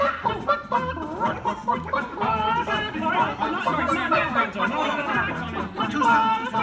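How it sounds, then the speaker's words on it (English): A chicken chorus in a Muppets theme park show clucks and squawks together in a busy, continuous flurry of bird calls mixed with theatrical voices and chatter. "Hey, Kermit, the all-chicken chorus is ready for their big number. The cluck heard round the world."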